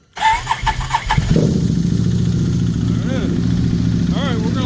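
A Can-Am 1000 cold-starts: a few quick cranking pulses, then the engine catches and settles into a loud, close, steady idle with a couple of brief throttle blips.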